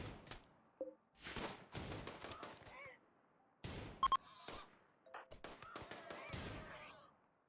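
Bursts of gunfire from the colony-building video game RimWorld, several sharp reports spread across the stretch, some in quick back-to-back pairs, mixed with other game effects and tonal blips.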